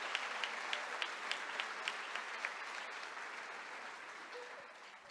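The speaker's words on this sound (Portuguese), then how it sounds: "Você pode aplaudir e glorificar o nome do Senhor?" A church congregation applauds together, a broad wash of clapping with a few rhythmic unison claps riding on top, gradually fading toward the end.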